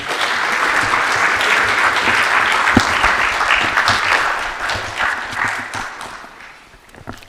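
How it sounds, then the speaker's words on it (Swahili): A large audience at a formal Tanzanian state event breaks into loud, sustained clapping, a thick even roar of many hands that tapers off toward the end. "na tumpongeze kwa makofi"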